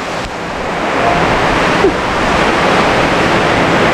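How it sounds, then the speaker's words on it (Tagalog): Strong sea waves surge in a broad, continuous rushing wash that swells slightly toward the end, loud and near, with a couple of faint knocks and no speech. "kalakas ang alon."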